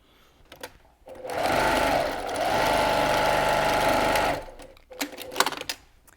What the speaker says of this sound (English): we're gonna head to the sewing machine and just stitch up just that one little bit to close it up